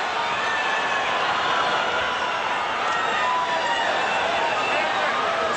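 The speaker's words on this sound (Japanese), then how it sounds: "サン・アントニオ・アラモドーム、割れんばかりの拍手が起こっています。" Arena crowd at the San Antonio Alamodome roars before a 1997 WBC welterweight title fight, a dense, steady wall of cheering and applause with no letup.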